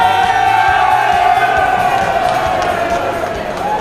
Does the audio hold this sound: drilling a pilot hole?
no